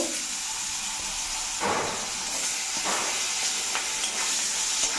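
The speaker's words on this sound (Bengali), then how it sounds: "আগে আলুটা ভেজে নিব নতুন আলু" New potatoes fry in a pan of mustard oil with salt and turmeric, giving a loud continuous hiss and sizzle that swells in brief bursts as they are moved about.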